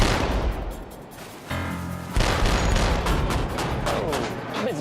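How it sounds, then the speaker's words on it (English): A warship's naval gun fires at a floating target at sea, delivering heavy booming reports with a long rumbling tail over steady ship noise; voices talk faintly between shots. "The gun is hitting its mark, but the killer tomato is a resilient target."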